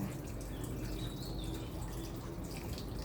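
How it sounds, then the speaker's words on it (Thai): A small garden waterfall splashes steadily at home after rain, a continuous soft wash of falling water that holds at an even level throughout with no pauses or voices. "หลังฝนตกนะคะก็มาชมมีเสียงน้ำตกด้วยนะคะ"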